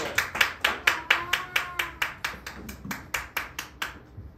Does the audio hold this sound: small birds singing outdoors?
no